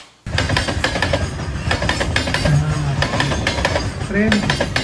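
Indian Railways train wheels clack over rail joints in a steady, loud rhythmic clatter of repeated metallic beats, heard from close by with a continuous rumble underneath.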